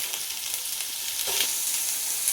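Thinly sliced onions fry in a pan with whole spices for kuska rice, making a steady, close hiss and crackle with a brief soft stir partway through.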